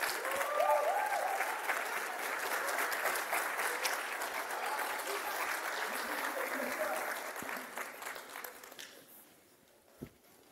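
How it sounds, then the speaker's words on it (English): Audience applause welcoming a speaker to the stage at an evening event, sustained clapping from a room full of people that gradually thins and fades out, ending with a single knock. "Let's receive her by a hand clap."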